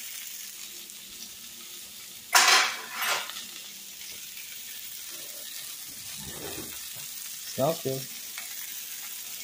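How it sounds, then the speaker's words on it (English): Bell peppers for shrimp fajitas sizzle steadily in a hot pan, a close, constant hiss broken by a few louder stirring scrapes and spatula clatters, with a brief spoken remark near the end. "I want it to kind of keep cooking those peppers for a little bit longer before I start actually mixing the shrimp around"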